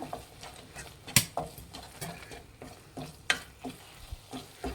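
A spoon stirs coconut and jaggery filling for holige in a pan on low flame, making close, repeated scraping strokes at an uneven rhythm over a soft, steady sizzle.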